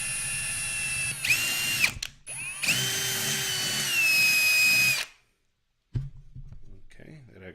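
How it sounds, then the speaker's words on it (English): A power drill bores a hole for tapping, whining loudly in two bursts with a short pause between, then spinning down and stopping, followed by a brief clunk of handling. "that actually drilled nicer anyways"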